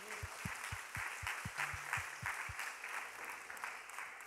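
A church congregation applauding together in a worship service, a dense wash of clapping at moderate distance, with a few louder low thumps early on and no words spoken.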